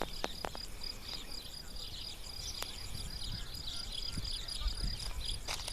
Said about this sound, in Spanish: Qué placidez da el cri-cri de los grillos.